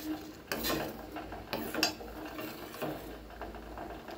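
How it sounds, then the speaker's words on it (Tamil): A ladle scrapes and clinks against a pot of simmering sago payasam with mango. Faint, irregular metallic strokes recur every second or so over a low background hiss. "இப்போங்க நம்ம ஒரு கரண்டியை வச்சு இந்த மாதிரி கலந்து விட்டுட்டே இருக்கலாங்க"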